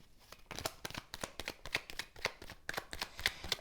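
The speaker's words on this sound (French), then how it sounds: "On va recouvrir cette carte." Tarot cards being laid down and covered on a table: a close, steady run of dry papery slaps and brushing shuffles, with no voices.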